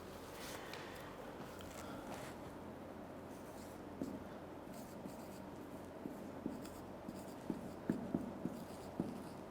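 Marker or chalk strokes scratch across a classroom board in short scraping bursts, soft and steady with occasional sharper taps, no talking.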